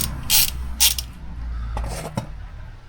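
Socket ratchet working bolts loose on a Husqvarna Norden 901 motorcycle during an oil service: two quick bursts of close, crisp clicking, then a few fainter metallic clicks and creaks.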